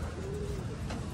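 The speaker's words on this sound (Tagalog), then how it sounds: "Yan eh mga kalapati natin." Racing pigeons coo in a low, soft, continuous murmur through a short stretch, fairly faint and steady, with one clear drawn-out coo near the middle and no talking.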